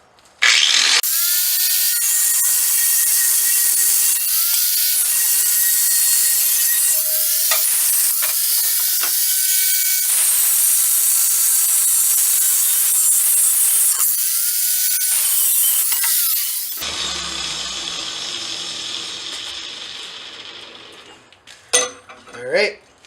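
Metal bar stock, half-inch and about a foot long, is cut for blacksmith tongs made from railroad spikes, with a loud continuous high grinding cut that wavers in pitch, then fades into quieter workshop clatter.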